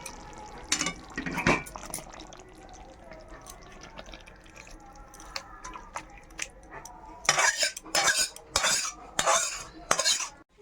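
Cooked Bhola fish curry with flat beans and mustard being tipped out of a pan, metal clinks and scrapes at first, then a louder cluster of wet clatters and spoon knocks near the end, close by.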